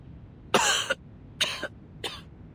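Character in the Reverse 1999 video game coughs and splutters three times, harsh close bursts separated by short pauses, with no other sound.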